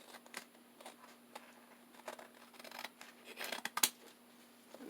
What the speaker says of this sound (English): So when I'm cutting this, I want to make sure I'm going to cut it right here up against the images